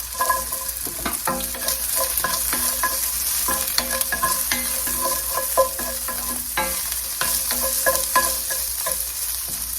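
Ginger and garlic frying with fatty pork in a pan, a steady loud sizzle running throughout with repeated scraping and stirring clatters of a utensil, no voices.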